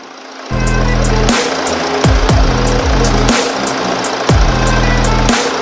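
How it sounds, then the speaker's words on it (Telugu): A Toyota Etios diesel engine with about 95,000 km idles steadily at close range, its low, even rumble broken by a few short clunks and bursts of higher-pitched noise partway through. "ఇంజన్ కండిషన్ కూడా ఒకసారి చూద్దాము."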